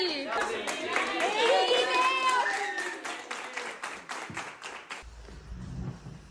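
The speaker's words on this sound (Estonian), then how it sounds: "Ma teeks aplausi" At a summer camp gathering, voices talk over a spell of scattered hand claps that grow sparse and then stop, leaving quiet room sound.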